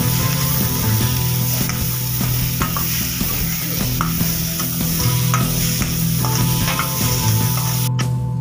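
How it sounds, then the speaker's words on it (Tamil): Onions fry in about 100 grams of hot sesame oil in a kadai for egg bhurji, giving a loud, steady sizzle with scattered scraping and stirring clicks from a utensil. "இப்போ வெங்காயத்தை போட்டு நல்லா வதக்கிக்கலாம்."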